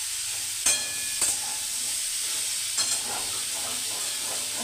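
Food frying while home cooking is underway, with a steady close sizzle and hiss from hot oil that continues the whole time, broken by a few brief clattering stirs of a utensil in the pan.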